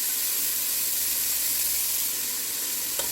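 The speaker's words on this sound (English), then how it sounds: "We did pat this beef dry really well so that hopefully we can get a better sear." Beef, patted dry, searing in a hot pan: a constant loud sizzle and hiss close up, uninterrupted and with no voices.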